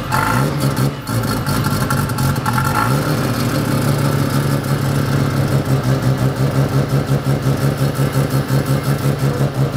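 Red Mazda RX-7 FD with a bridgeported rotary engine running, a loud choppy lumpy idle with rapid pulsing and a brief blip early on, close and steady throughout.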